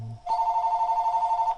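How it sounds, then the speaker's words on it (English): A phone rings with a steady electronic trill, one continuous ring lasting over a second, close and fairly loud, with a brief low sound just before it starts. "oh, that's my phone."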